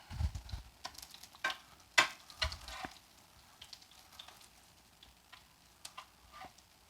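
Zucchini and shrimp fritters frying in a pan, giving a quiet, uneven crackle with scattered sharp pops and ticks, busier in the first few seconds and then thinning to sparse spits.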